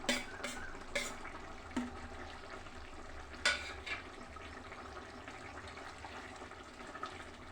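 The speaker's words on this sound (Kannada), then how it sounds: "ಈ ಕುದೀತಿರುವಂತಹ ಟೊಮೊಟೊ ಗೊಜ್ಜಿಗೆ ಬೇಯಿಸ್ಕೊಂಡು ಸ್ಮ್ಯಾಶ್ ಮಾಡ್ಕೊಂಡಿರುವಂತಹ ಆಲೂಗೆಡ್ಡೆನ ಸೇರಿಸ್ಕೊಳ್ತಾ ಇದ್ದೀನಿ" Mashed boiled potato is stirred into a pot of boiling tomato gojju, giving soft wet stirring and scraping over a faint continuous simmer. A few brief clinks sound near the start.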